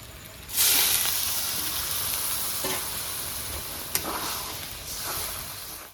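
Water poured into a pan of sizzling kidney gravy sets off a sudden loud, steamy hiss that stays steady for several seconds, with a few faint stirring clinks and no voices.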